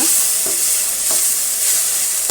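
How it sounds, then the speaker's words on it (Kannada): Chopped tomato and okra frying in a hot pan, a steady close sizzle broken by a few quick scrapes of a spoon stirring the mixture. "ಈಗ ಒಂದು ಟೊಮೆಟೊ ಸಣ್ಣದಾಗಿ ಹಚ್ಚಿಟ್ಕೊಂಡಿರುವಂಥದ್ದು ಹಾಕೋಣ ಅದನ್ನು ಚೆನ್ನಾಗಿ ಫ್ರೈ ಮಾಡ್ಕೊಳ್ಳೋಣ"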